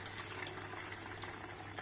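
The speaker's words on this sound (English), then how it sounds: "So let's start pouring the watermelon wine into the bottle." Homemade watermelon wine poured through a funnel into a bottle, a steady, continuous liquid rush and gurgle at close range, holding even from start to finish with no talk.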